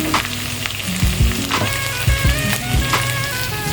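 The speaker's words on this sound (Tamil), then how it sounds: "இது நல்லா வதங்கட்டும்." Onions with ginger garlic paste sauté in a hot pan for a vegetarian kurma, giving a loud, close, continuous sizzle with a few clanks and scrapes of stirring.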